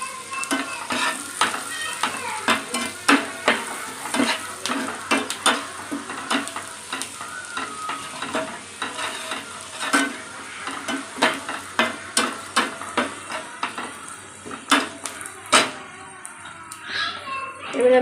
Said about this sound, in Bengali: দিচ্ছি সামান্য জিরে গুঁড়ো, এটা খুব ভালো করে নেড়ে নেব।